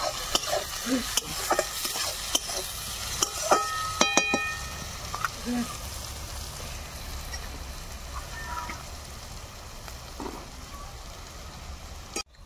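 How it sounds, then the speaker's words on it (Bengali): Onions fry in a pan with salt for egg curry, sizzling steadily while a spatula stirs and scrapes in quick strokes early on, then the sizzle continues alone. "ভালো করে এবার পেঁয়াজগুলো ভেজে নেব।"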